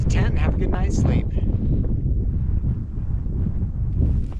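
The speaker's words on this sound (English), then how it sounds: "Hopefully the wind will go down" Gusting wind buffets the microphone on an exposed mountain hiking trail in Idaho, a steady loud roar with rumble that persists throughout, while a person speaks near the start.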